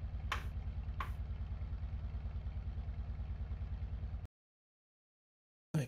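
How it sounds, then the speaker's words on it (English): A video game car engine from Busted Metal idles with a steady, pulsing rumble, broken by a couple of short clicks before cutting abruptly to silence and a brief final burst. "it's just the engine sound"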